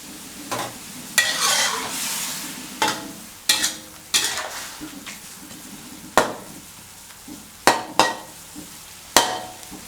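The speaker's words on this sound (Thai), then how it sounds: "เสร็จแล้วก็ตั้งให้ หมูกับพริกแกงเราเดือดอีกสักนิดนึง" Pork and Thai chili paste simmer and sizzle in a pan for Northern Thai chili paste, with a steady low bubbling bed broken by about ten sharp stirring scrapes and clatters spread across the clip, close and moderately loud, no talking.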